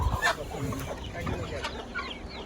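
A Bhimavaram Mettajati chicken on a farm under black netting gives soft, irregular clucks at moderate distance, with faint background noise and a trace of distant voice.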